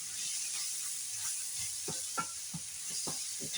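Sliced hot dogs brown in a hot pan for a spaghetti dinner, a steady high sizzle and hiss with a few soft pops and light scrapes, fairly faint and with no voices.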